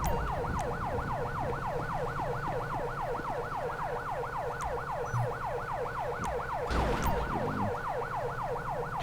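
Ambulance siren in FiveM, the GTA V multiplayer game, wailing in a fast, continuous yelp pattern throughout, steady and fairly close, with occasional clicks and a brief burst of noise near the end.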